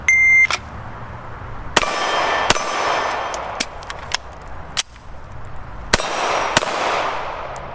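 A CZ P-09F Nocturne handgun fires a quick series of sharp shots at steel targets, each followed by a bright, lingering metallic ring, irregularly spaced across several seconds at an outdoor range, with no talking.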